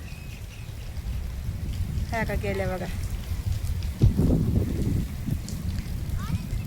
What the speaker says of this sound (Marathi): पाऊस लय झाला इकडं लय पाऊस झालाय